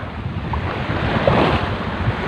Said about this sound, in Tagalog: yung lakas ng hangin nagdudulot siya ng parang bula-bula dun sa alon nitong si dagat